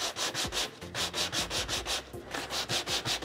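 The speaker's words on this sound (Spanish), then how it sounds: "voy a pasar un poquito la lija para sacarle como el blanco de la pasta clásica que he puesto debajo" Sandpaper rubs back and forth over a small metal plate coated with white modelling paste, making about a dozen quick, even, close-up scratchy strokes in a steady rhythm, broken once by a brief pause, with no speech.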